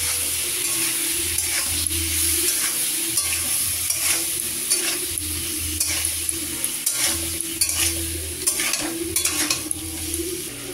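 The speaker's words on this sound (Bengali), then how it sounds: "এখন জল দিয়ে গুটিয়ে এগুলোকে ভালো করে কষিয়ে নিই" Spices including cumin powder, moistened with water, are stirred and fried in a pan for a lentil-fritter dish, giving a continuous close sizzle with scraping spatula strokes.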